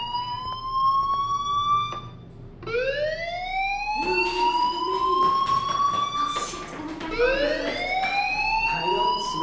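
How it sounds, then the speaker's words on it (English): A fire alarm wails in the video game Life is Strange, repeated rising siren sweeps that climb and hold, loud and insistent, with a faint background murmur beneath. "Hey, do you hear that fire alarm?"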